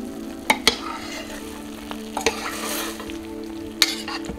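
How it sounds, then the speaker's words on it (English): Zucchini and yellow squash being stirred in a crockpot, with a few sharp clinks and scrapes of a spoon against the pot over a soft steady bubbling simmer, close and fairly quiet, no talk. "let's give it a good stir"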